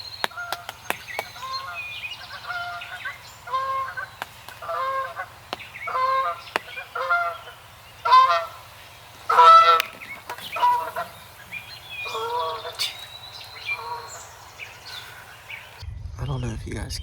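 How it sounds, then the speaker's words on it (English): Wild turkey gobblers gobbling on an Ohio spring hunt: repeated rattling gobbles at middle distance, several birds answering one another, over a low steady hum, with a few sharp knocks. "we have gobblers gobbling everywhere"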